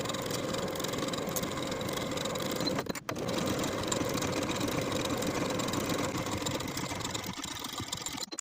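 Sewing machine running steadily as it stitches a half-inch seam through fabric for a colorblock top, a continuous mechanical whir with one brief pause near the middle before resuming at the same even pace.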